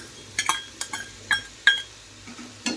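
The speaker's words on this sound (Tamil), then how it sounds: "ஒரு பத்து பூண்டு எடு எடுத்திருக்கேன் அதை வந்துட்டு இது போல் தட்டிக்கிங்க இது போல் நம்ம நசுக்கி போடும் போது" Garlic cloves being pounded and crushed for a chapati kurma: a handful of sharp taps and clinks, spaced irregularly, fairly close and alone with no talk.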